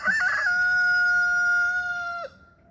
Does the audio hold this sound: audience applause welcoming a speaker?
no